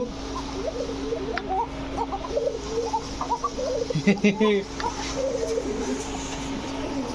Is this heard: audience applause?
no